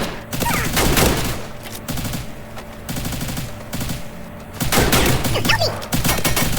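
Gunfire in the Free Fire video game sounds as bursts of rapid automatic shots, loud and close, broken by short pauses, with a heavier volley near the end.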